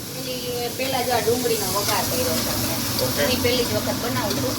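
Onions frying in a pan for dabeli give a loud, continuous sizzling hiss, with people talking throughout.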